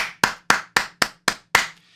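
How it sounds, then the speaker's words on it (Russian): Six sharp hand claps ring out in an even, quick rhythm, close and crisp, with no voices around them. "Максим Архивограф удостаивается наших аплодисментов."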